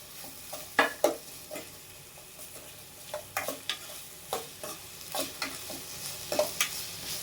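Ginger and other filling ingredients for onion samosas frying in a pan, with soft sizzling under repeated scraping stirs that land as sharp ladle clicks at irregular intervals, close and moderately loud.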